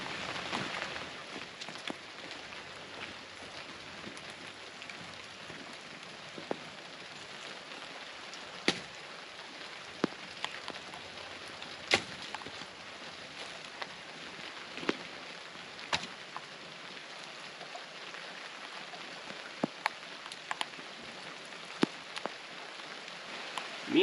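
Steady rain patters on surfaces around a remote roadside camp during a solo camping trip, with scattered sharper drops tapping nearby over a constant soft hiss.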